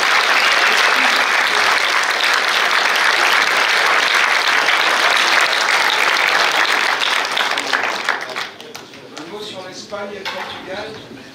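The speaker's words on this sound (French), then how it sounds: "Vous pouvez applaudir Florian parce qu'il déploie une énergie folle." An audience at a political talk on energy policy in Thonon applauds Florian Philippot: loud, dense clapping fills the hall for about eight seconds, then thins out as talk resumes over the last fading claps.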